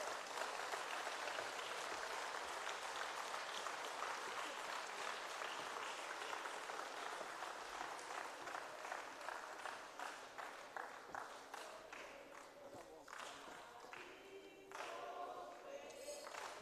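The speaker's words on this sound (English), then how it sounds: "A round of applause." Audience applause fills a hall at a provincial school-leaving results announcement, a long steady wash of clapping that thins toward the end, with a few sharper claps and faint sounds from the stage.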